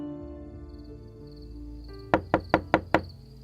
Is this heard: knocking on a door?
yes